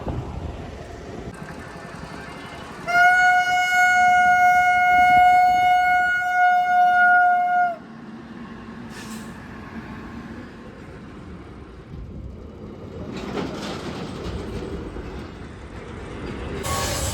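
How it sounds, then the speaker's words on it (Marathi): A train horn blares in one long, loud, steady blast of about five seconds at a railway crossing, over the continuous rumble of the passing train and roadside noise. "तर मित्रांनो या ठिकाणी ट्रेन येते तर आपण थांबलेलो आहे"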